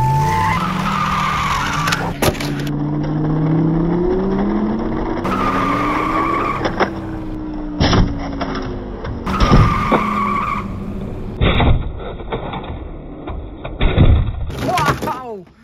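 Hot Wheels toy police car and ambulance zip along a plastic race track in quick rattling runs, with sharp clicks and clatters between bursts and a high squeaky whir near the end.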